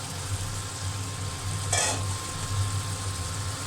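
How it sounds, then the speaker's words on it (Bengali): Spice paste of garlic paste, cumin paste and salt frying in a pan, giving a steady soft sizzle with a low background hum and one brief louder scrape of stirring partway through. "এখন আমি মশলাটা ভালো করে কষিয়ে নিব।"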